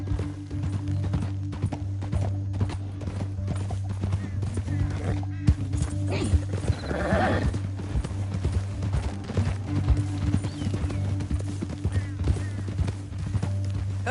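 Horse hooves clip-clop steadily at a gallop under a low droning hum, with a brief voice partway through, in the video game Red Dead Redemption 2.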